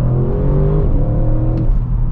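A 2020 Audi RS6 Avant accelerates hard in second gear, its engine roaring loud and close as the pitch climbs steadily, then easing slightly near the end.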